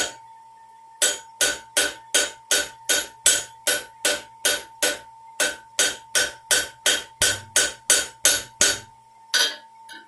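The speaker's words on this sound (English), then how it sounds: "we're taking out hammer marks, flattening out the peaks, just evening it up without hitting that center ridge at all" A hammer strikes a forged leaf for a leaf hook, flattening out hammer marks. The blows are loud, sharp and ringing, about twenty of them in an even, brisk rhythm, heard close and alone.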